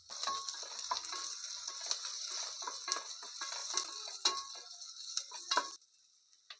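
Ginger garlic paste frying with onions in a pan, a steady crackling sizzle with scattered clicks of stirring that carries on for most of the stretch, then drops away abruptly near the end.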